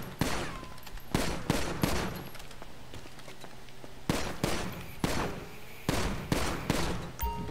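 Repeated sharp gunshots crack in irregular bursts, some in quick clusters, over a faint ambient background, sounding like video game gunfire.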